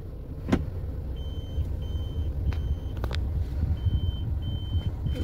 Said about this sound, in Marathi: हे आपण बॅक गिअर टाकतोय.